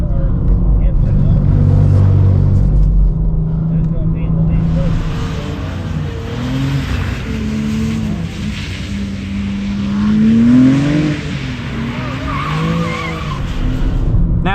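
A 2024 BMW M2 racing around a skid pad, loud continuous tire squeal and skidding over a revving engine, rising and falling with pitch sweeps, with people talking throughout.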